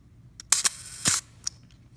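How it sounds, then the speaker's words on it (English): A vintage camera shutter fires at a slow speed: a sharp opening click, a brief pause, then a second closing snap about half a second later, followed by a faint winding click, all close and alone in a quiet room. "I will slow the shutter down"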